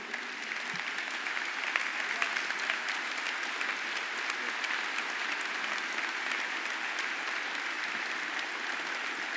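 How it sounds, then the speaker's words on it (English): Steady, sustained applause from an audience, dense clapping that holds at an even level throughout with no pauses. "Let's give Chris another round of applause for sharing such a personal story with us today"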